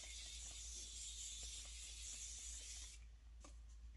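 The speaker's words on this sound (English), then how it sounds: "I'm going to set my face with the Morphe Continuous Mist Setting Spray." Morphe Continuous Mist Setting Spray misting onto a face as a steady, soft hiss that holds for about three seconds, then stops, with faint handling noises after it.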